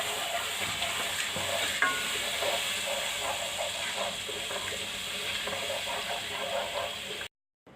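Steady sizzling and frying of spices with a little water in a pan for goat leg curry, with soft scraping and stirring throughout, fairly close, cutting off abruptly at the end.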